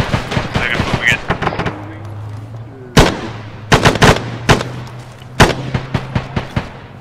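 Gunfire in a tank-combat video game: a string of loud, sharp shots in separate bursts, several close together around the middle, over a low steady engine drone, with voices talking briefly at the start.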